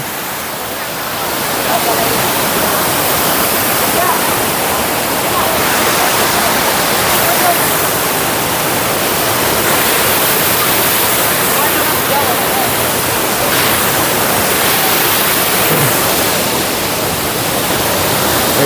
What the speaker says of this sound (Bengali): ঝর্ণা একবার উপরে থেকে পানি পড়তেছে পাহাড়ের উপরে থেকে পানি পড়তেছে